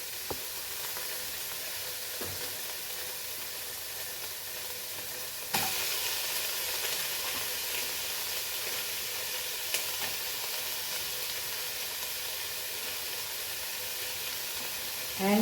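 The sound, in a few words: tomatoes added to a frying pan for sausage pulao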